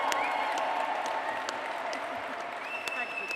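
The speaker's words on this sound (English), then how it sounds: "Can I give a round of applause for Claire?" Steady applause from a crowd at an awards ceremony fills the room, a dense wash of clapping that holds at an even level throughout.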